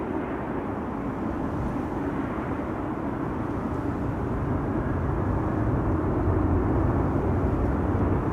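EasyJet Airbus A319 airliner at Schiphol Airport, a steady broadband engine roar from a distance that grows slightly louder toward the end.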